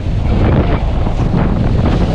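A speedboat pounds across rough, choppy sea in the West Philippine Sea, with loud, steady wind buffeting and roaring engine and water rush filling the whole stretch, no voices.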